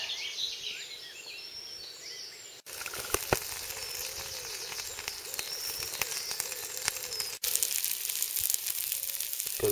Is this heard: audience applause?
no